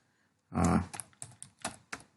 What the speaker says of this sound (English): Just I am writing a program, a simple program to in a third session, and just typing a program.